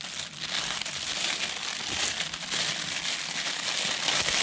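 Plastic wrapping being pulled off a G-Shock MRG-G1000 watch, a continuous close crinkling and crackling rustle that stays fairly loud and busy from start to finish, with no talking.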